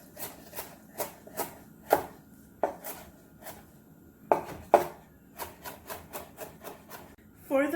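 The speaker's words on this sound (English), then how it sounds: "So now I'm going to chop up my herbs." A knife chopping fresh parsley on a cutting board, a string of crisp, close taps at an uneven rhythm, some quick and clustered, others spaced apart, with quiet room tone between strokes.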